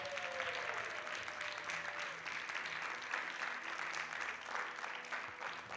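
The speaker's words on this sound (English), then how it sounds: "So please applause François, Salisson, Grégoire, Genevoy, Eric" Sustained audience applause at a research award ceremony, steady and fairly loud for the whole stretch, with no speech over it.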